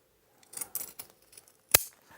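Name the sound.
scissors clipping corner and trimming fabric seam allowance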